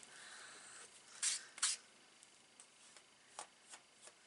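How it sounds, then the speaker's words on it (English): Two quick bright hisses of a Domestos cleaning spray bottle, close and fairly quiet, followed by a few soft clicks and taps. "My little trick with my Domestos spray."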